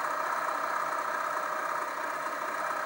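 A LittleMachineShop 3960 HT benchtop minimill cuts at raised spindle speed with a slow feed, giving a steady, dense mechanical whir and hum that holds without a break, close and moderately loud.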